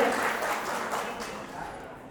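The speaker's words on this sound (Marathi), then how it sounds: "एकदा जोरदार टाळ्या होऊन जाऊन दे." Dense applause from an audience at a police retirement ceremony, steady and fairly loud, gradually thinning toward the end.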